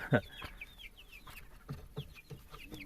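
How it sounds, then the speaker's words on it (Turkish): Soft, scattered clucks from a few chickens near Brahma chickens in a garden, low and intermittent, with a louder squawk near the start and quiet background rustle. "Brahmalarımıza çok ilgi gösteriyor tavuklarımız."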